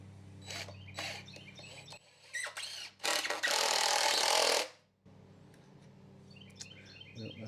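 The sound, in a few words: screws being driven into wood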